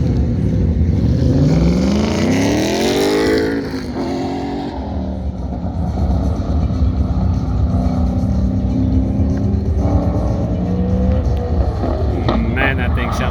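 A pro touring truck at a T1-class autocross event revs hard, its engine note rising as it accelerates, eases briefly, then climbs again, loud and close throughout.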